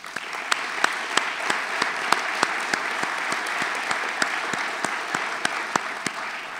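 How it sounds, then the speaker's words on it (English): Steady audience applause at a lecture series breakfast, a continuous wash of many hands clapping with a few sharper individual claps standing out, sustained evenly throughout with no talking. "That deserves some applause."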